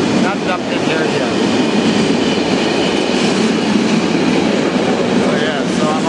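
A train at Hilversum Central station rumbles steadily throughout, with a continuous loud roar of wheels and rail noise and faint clicking, close by and without a break.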